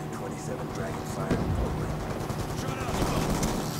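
Rapid B23R pistol fire in Black Ops 2 crackles in quick bursts amid dense game noise, loud and continuous, while a player talks over it.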